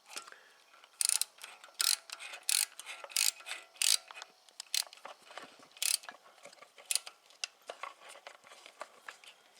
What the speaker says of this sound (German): Dann müsst ihr hier die Mutter mal vorsichtig anziehen und dann kümmern wir uns mal um die Spannung.